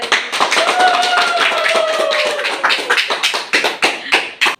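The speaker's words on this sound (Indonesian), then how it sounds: "Oke, tepuk tangan dulu untuk teman." A classroom breaks into applause for a student who has just presented group work during a teaching-practice lesson. Dense, close clapping runs for several seconds with voices mixed in, then thins into a few scattered final claps.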